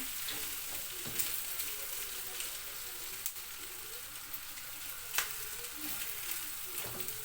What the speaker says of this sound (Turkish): Şimdi yap, tavaya çıtır çıtır ediyor. İyice kızarsın.